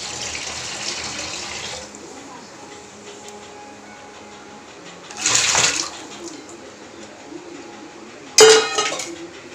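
Water gushes briefly into a kitchen sink in two separate bursts, poured in to clear a blocked drain, with a faint dish clink and low room noise in between; no one speaks.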